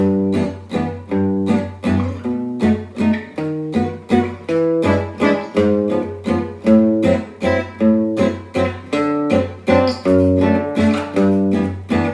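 Acoustic guitar strums a gypsy jazz chord progression in a bouncy, rhythmic swing feel, chords changing every beat or two, alone and close.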